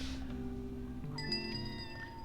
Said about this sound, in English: Minion, who meowed like a cat for some reason